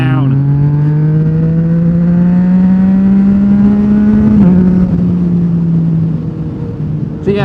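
A Yamaha MT-09 motorcycle engine pulls hard under acceleration, its tone rising steadily through the revs, dipping briefly at a gear change, then easing off near the end; loud and close throughout.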